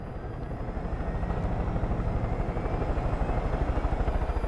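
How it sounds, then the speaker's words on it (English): A helicopter in the video game Far Cry 5 flies with a steady, loud rotor chop thudding rhythmically and continuously, a constant engine whine over it and no voices. "since I pre-ordered this game, I got a helicopter"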